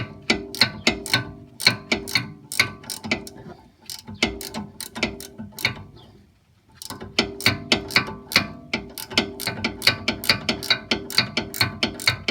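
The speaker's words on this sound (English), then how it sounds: "You hold it with the wrench, and you put the Torx 40 bit right in the end of the bolt to hold that steady while you undo that." A ratcheting wrench clicks rapidly while undoing a Torx bolt on a BMW X5 E70 sway bar end link, close and crisp, in quick rhythmic bursts with a short pause midway.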